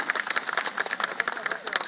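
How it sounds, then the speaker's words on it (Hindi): An audience at a kavi sammelan poetry recital at a Mahashivratri fair claps in a quick, scattered patter, fairly faint and brief, with a crowd murmur underneath. "सम्मान में आपकी तालियां आनी चाहिए।"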